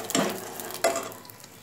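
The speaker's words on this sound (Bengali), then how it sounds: "এবার সব কিছুকে প্রায় 10 সেকেন্ডের মতন একটু ভালো করে নাড়াচাড়া করে নেব।" Whole tempering spices, dried chili and bay leaf, stirred in hot oil over low heat for a Bengali mixed dal, two brief scraping swishes of a spoon over a low background sizzle, close and fairly quiet.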